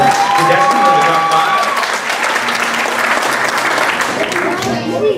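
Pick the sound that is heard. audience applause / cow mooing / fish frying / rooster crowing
audience applause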